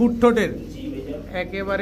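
A pair of Indian Kakji pigeons coos in low, rolling murmurs nearby, partly buried beneath steady speech from someone talking over them.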